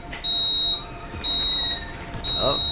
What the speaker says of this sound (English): It kind of sounds like a fire alarm